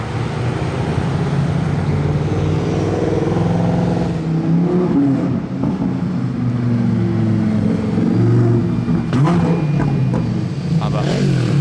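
An Aston Martin Valkyrie Spider with a Dubai plate and rear wing drones past, then downshifts with sharp revving blips near the end, fairly close, while people talk over it.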